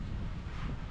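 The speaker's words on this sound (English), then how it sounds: "It is so windy here today." Strong wind gusts buffet the microphone outdoors at the Palm Beach boat show, a dense low rumbling roar that stays steady and close throughout the brief moment.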